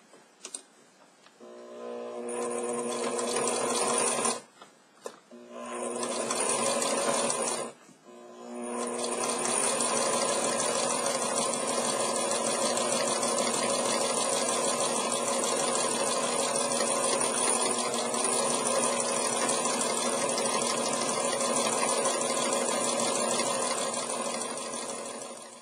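A sewing machine stitches flannel for a fitted cloth diaper, running in steady continuous bursts with two brief stops near the start, then a long unbroken stretch of close, even motor whir and needle clatter.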